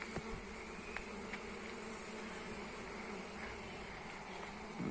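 Dense, steady buzzing of a swarm of many honeybees fills the air, a continuous drone close by with no pauses.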